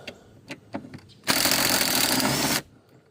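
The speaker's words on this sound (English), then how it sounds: "Socket wrench." A socket wrench loosening the jet pump bolts on a Waverunner during pump removal. A few soft knocks lead into one loud, steady mechanical rattle lasting just over a second, then it stops abruptly.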